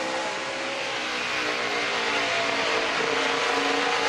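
NASCAR truck engines racing at Bristol, a dense continuous high-pitched roar from an onboard view as trucks pass, loud and unbroken throughout, with no talk.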